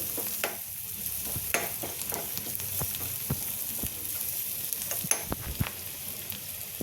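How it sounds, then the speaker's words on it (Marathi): Steady, soft sizzling of garlic frying in butter, with occasional sharper pops and crackles and light stirring sounds over a continuous hiss. "ह्या आता छान फ्राय करायचं आहे ह्या बटरमध्ये"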